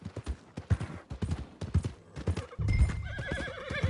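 Horse hooves clip-clop in a steady rhythm near the stables in Red Dead Redemption 2, with a loud, close whinny rising over the hoofbeats in the final seconds.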